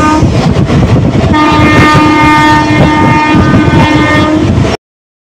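A train passes on the neighbouring track near Bhimavaram, a loud close rumble and rattle of wagons with a sustained horn blast through the middle, cutting off abruptly.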